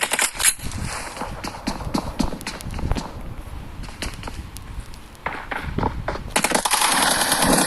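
Gunfire crackles through a team deathmatch in a video game shooter, a busy run of rapid shots and footstep-like thuds, ending in a denser burst of firing.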